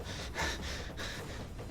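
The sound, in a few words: voice imitating stressed panting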